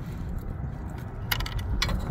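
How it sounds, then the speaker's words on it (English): A wrench key loosens the positive battery terminal on a Chevrolet Equinox, giving a few sharp metallic clicks late on over a steady low rumble. "Now it's easier for me to use the wrench key because my wrench just wouldn't fit here."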